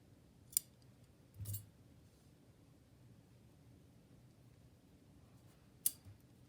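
A couple of quiet scissor snips trimming loose thread tails after knots are tied on handmade fabric tags, one short cut early and another near the end over a faint room hiss.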